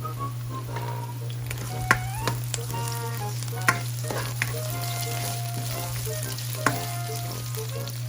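Half an onion stir-frying in two tablespoons of oil, with a continuous close sizzle over a steady low hum and occasional sharp clicks of a utensil against the pan, with no talking.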